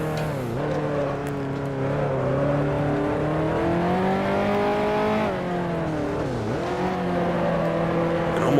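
Engine of a 1955 Mercedes Formula One race car in Grand Prix Legends, on the Dutch Grand Prix circuit, howling loudly and continuously as it revs, with sharp pitch drops as it downshifts into a corner.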